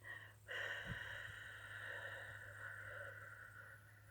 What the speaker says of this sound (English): I'm going to take a deep breath in through my nose